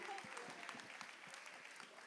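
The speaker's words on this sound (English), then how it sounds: "give them a round of applause," Audience applause at a fashion carnival's public service award ceremony: a steady wash of clapping from a crowd that holds for the whole moment, with a voice faintly speaking over it.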